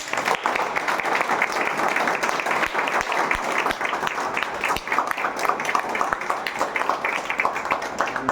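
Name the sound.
audience applause at celebration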